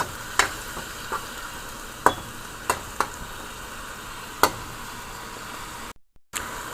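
Chicken gizzard curry fries in oil with a steady sizzle, broken by a handful of sharp scraping clicks as it is stirred, and a brief dropout near the end.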